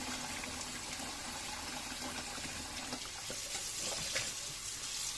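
Running tap water splashes over grape leaves being rinsed for brining, a steady close hiss with soft rustling and patters as the leaves are handled.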